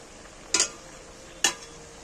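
Spinach and a katla fish head being stirred in a pan with kalo jeere, two sharp scraping clacks about a second apart over a faint low sizzle.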